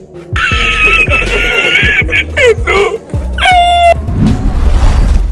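A cat standing its ground against dogs yowls and hisses in loud, rising and falling cries, mixed with sharp growls and barks close by.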